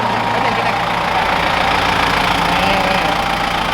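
A Massey Ferguson tractor engine, 75 or 85 horsepower and in good condition, runs steadily close by with a smooth, even drone that never lets up, while people talk over it.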